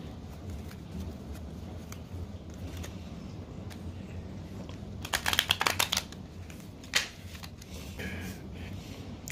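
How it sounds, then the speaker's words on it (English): Quiet riffling of tarot cards being shuffled, a couple of soft flurries in the middle against low room noise, no talking. "Let's shuffle these again if we can."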